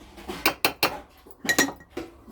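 A spoon clinks sharply against a glass several times in quick bursts while scooping sattu, two clusters of bright metallic taps close up.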